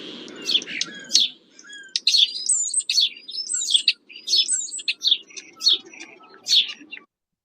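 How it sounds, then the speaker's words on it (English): A starling chatters in a rapid series of whistles, clicks and squeaky chirps, close and clear, with a low rumble beneath before it stops. "And then the starlings."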